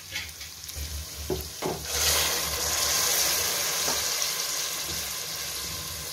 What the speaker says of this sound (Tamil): இதில் மிச்சம் 5 டம்ளர் தண்ணி ஊற்ற போகிறோம்.